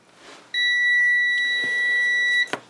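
A loud, steady electronic alarm buzzer, triggered by a reed switch as a magnet moves away, sounds continuously for about two seconds, then cuts off abruptly, followed by a couple of faint clicks.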